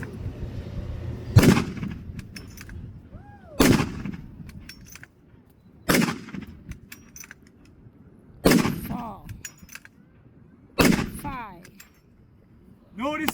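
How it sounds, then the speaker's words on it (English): Five shots from a Krag-Jorgensen .30-40 bolt-action rifle at an outdoor military history demonstration, loud sharp cracks spaced about two seconds apart, each trailing into a long echo. "5 rounds from the Krag."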